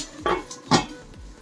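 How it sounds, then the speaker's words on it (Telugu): Lid set onto a pot of prawn curry on the stove: two distinct metallic clinks close by, one softer then a louder one, with a faint clatter after, no voices. "మూత పెట్టేద్దాం"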